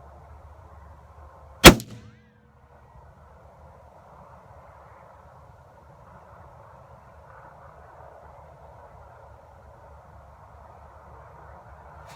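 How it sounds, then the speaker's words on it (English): A single sharp rifle shot, fired from a rifle fitted with a T-Eagle MR 4-16x44 FFP scope, cracks loudly and close, with a short ringing decay, followed by a long stretch of low outdoor hum. "So I want to shoot low right now"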